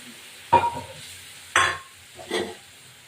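Sizzling bursts as a little water goes into a hot pan of fish curry, three sharp hissing splashes about a second apart, close and fairly loud, each fading quickly, with no talking.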